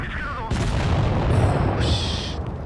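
Tank gun firing in World of Tanks Blitz on a Type 71 tank, a loud booming blast that rolls on through the whole short stretch, with a second sharp burst near the end.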